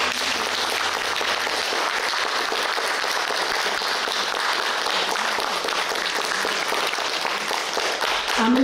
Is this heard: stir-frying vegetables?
no